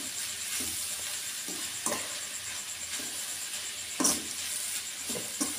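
Food cooking in a pan over a medium flame, a soft steady sizzle with several brief stirring scrapes and clinks spaced through the clip, close and fairly quiet, with no voices.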